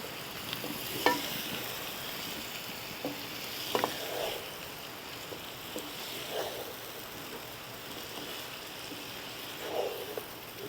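Chicken vindaloo being stirred in a pan over a medium flame, with a soft, continuous sizzle and a few spaced scraping strokes of the spoon, fairly quiet and without talk.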